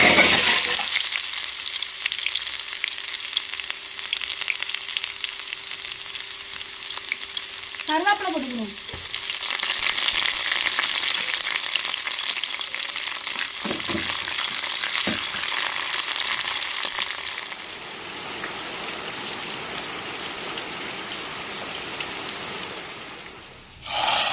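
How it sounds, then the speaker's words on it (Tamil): Chopped onions fry in a pan for a fish curry, a loud close continuous sizzle with scraping stirs and occasional utensil knocks. "வெட்டி வச்சு வெங்காயத்தை போட்டுக்கிறோம்"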